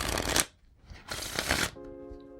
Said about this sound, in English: we'll do a riffle shuffle.